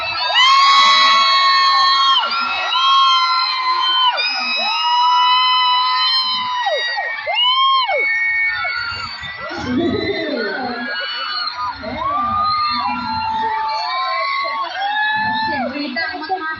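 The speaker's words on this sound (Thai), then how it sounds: "เสียงกรี๊ดดังมากๆเลยค่ะ" A large crowd at an aespa set during the Sound Check Festival 2023 screams and cheers without pause, with high-pitched shrieks and whoops layered in a loud, continuous wall of noise.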